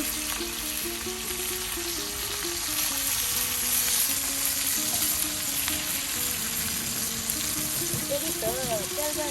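Fish pieces fry in hot oil during village Bengali iftar cooking, with a loud, steady sizzle running throughout while a voice sings or chants above it.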